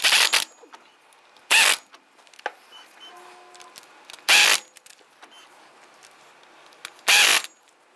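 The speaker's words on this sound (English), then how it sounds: "Once they're all started, come back around and tighten them down. Now we can go ahead and snug these down." Four loud, short bursts of a ratchet wrench spaced a few seconds apart, tightening CV joint flange bolts on a 2002-2008 Dodge Ram 1500, with quiet metallic tinkering and small clicks in between.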